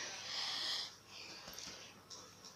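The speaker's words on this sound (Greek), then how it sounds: "Να πάρω μια βαθιά ανάσα." One deep breath is drawn in with a soft, airy hiss close to the microphone, followed by quieter breathy rustles in an otherwise hushed room.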